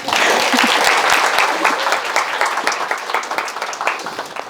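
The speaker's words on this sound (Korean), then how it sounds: "정리를 잘해주신 우리 수아원장님한테 박수 한번 드릴게요." An indoor audience at an instructor training session applauds a presenter, a full burst of clapping that starts strong and gradually thins out over several seconds.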